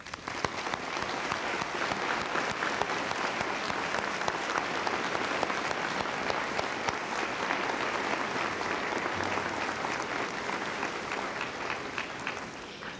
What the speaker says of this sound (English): we want to give you another round of applause